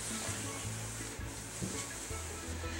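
A cloth scrubbing and wiping along the baseboard at the bottom of a kitchen cabinet, a continuous close rubbing hiss with slight rhythmic pulses, heard alone.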